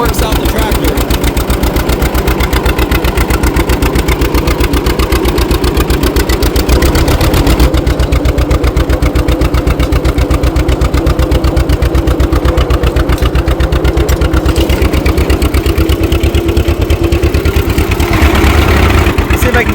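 A 1940 John Deere BO tractor chugs loud and close while plowing, its engine firing in a fast, steady two-cylinder putt-putt that never stops, with some wind and rumble underneath.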